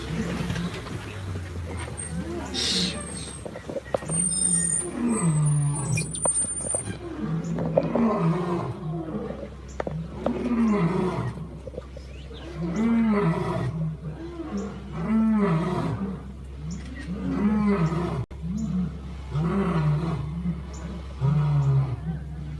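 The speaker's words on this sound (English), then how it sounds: "all the way up to a lion's roar" A lion on a safari ride in an animal park gives a long series of deep, rhythmic roars and grunts, loud and close, rising then tapering, with vehicle hum underneath.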